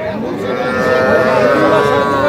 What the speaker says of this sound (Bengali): এটা কিন্তু শাহিওয়াল জাতের বকনা বাছুর।